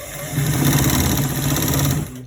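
Sewing machine stitching the left front pocket of a trouser: a steady, close mechanical whirr starting after a short pause and running continuously for about two seconds before stopping.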